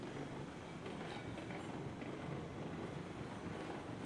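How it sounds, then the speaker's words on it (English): A full freight train hauls up a grade in the Railroads Online railway game, giving a constant broad rolling rumble with a wind-like hiss. The sound is steady, moderately faint and has no voices over it. "I don't think I've ever tried going up this grade in the other direction with a full freight train."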